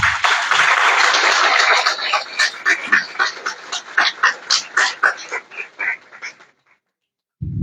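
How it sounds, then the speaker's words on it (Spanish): An audience at a book presentation at a technological university in Manzanillo breaks into loud, dense applause that turns into rhythmic, pulsing claps before tapering off into silence. "para quien pido un fuerte aplauso."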